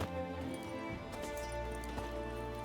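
Horse hooves clip-clop in a steady rhythm in the video game The Witcher 3: Wild Hunt, moderately loud and mixed under sustained game music.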